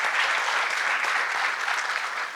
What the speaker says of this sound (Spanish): y un fuerte aplauso para ella.